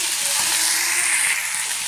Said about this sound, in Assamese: এতিয়া ঢালি দিছোঁ মটৰ আৰু বিলাহীটো।